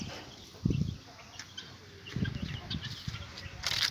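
Chickens, chicks and ducklings in a farmyard pen give short bursts of soft clucking and scattered chirps at moderate distance, amid light outdoor background noise.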